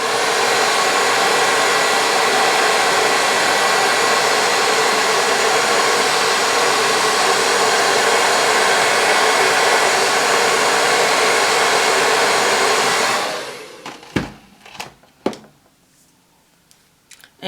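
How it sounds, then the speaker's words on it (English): Hair dryer blows steadily and loudly at a red wig for about thirteen seconds, then switches off, leaving a few soft handling clicks and taps in near silence. "And use your blow dry as needed."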